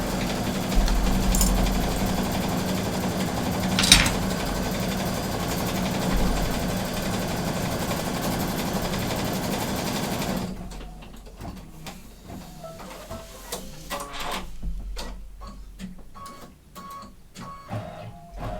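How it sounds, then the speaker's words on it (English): An embroidery machine on a Luminaire setup stitches out placement lines, a steady mechanical whir for about ten seconds, then lighter rapid ticking and clicks as the needle works, fairly close with no talking. "I'm going to advance until I get to the next placement line and stitch out that placement line"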